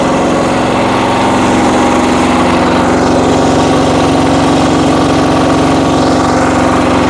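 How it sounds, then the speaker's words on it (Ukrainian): A small walk-behind tractor engine runs loud and close, a constant buzzing drone with a rattling idle that never lets up. "Шипоче двигун."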